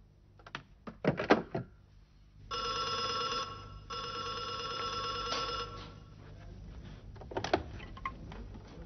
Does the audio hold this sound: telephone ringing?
yes